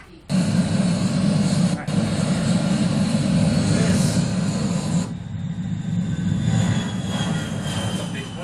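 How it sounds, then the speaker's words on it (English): A big airplane passes overhead with a loud, steady, broad engine roar that keeps going the whole time, rising a little in spots, while people talk beneath it. "That's a big plane."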